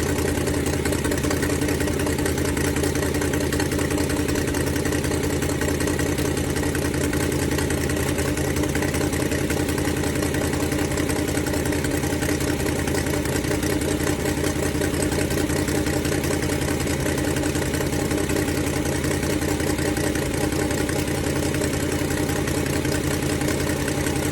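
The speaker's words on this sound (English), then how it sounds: "That exhaust leak sounds horrible." A Ford 289 V8 with an exhaust leak idles steadily and loudly for the whole stretch, a continuous rough rumble with no voices over it.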